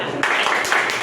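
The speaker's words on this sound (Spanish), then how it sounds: "Da 3 palmas." A group of students in a classroom clapping three times together, loose overlapping claps that blur into a short spatter of sound, close and moderately loud.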